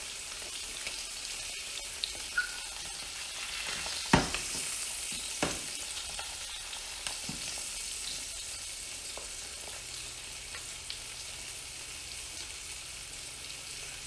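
A ribeye steak sears on an open smoker grate in a Texas-style reverse sear, a soft, distant sizzling hiss with a few sharp pops and taps, the sound fading quieter toward the end.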